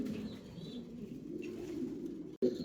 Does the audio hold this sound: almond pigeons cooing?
yes